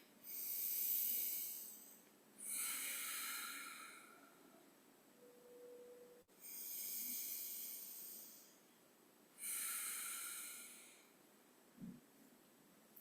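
Slow, deep breaths during a guided meditation neck stretch: four long airy exhales and inhales, close and soft, evenly paced with quiet gaps between them.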